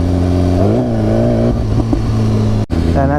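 A 2016 BMW S1000RR sport bike at full throttle in sport mode, its engine note climbing in pitch through a revving surge, briefly cutting out before pulling hard again, loud and close.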